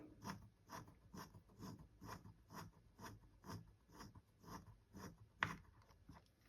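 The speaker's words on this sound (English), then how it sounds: "And I drill straight down." Small hand drill with a half-millimeter bit boring straight down into a polymer clay bead, giving faint, evenly spaced scraping ticks in a steady rhythm, close up and quiet with no talking.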